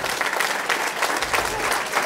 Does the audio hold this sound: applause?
yes